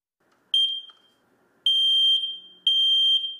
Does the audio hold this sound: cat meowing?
no